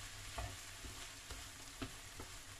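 Sautéed corned beef with potatoes, carrots, garlic and onion being stirred in a pan, a soft continuous sizzle with a few light scrapes of the spoon, close, no voices.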